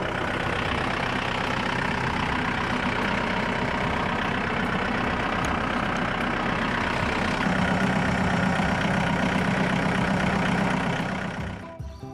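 A small farm tractor engine idles steadily and close by, a continuous low rumble that holds even throughout with no voices, then cuts off abruptly at the very end.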